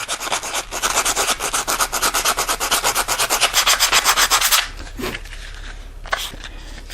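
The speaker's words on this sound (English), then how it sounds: "we will sand those off" Gorilla Glue and foam on the nose of an RC F-16 EDF jet are sanded by hand with quick back-and-forth strokes in a steady rasping rhythm. The strokes stop partway through, leaving a few faint scrapes.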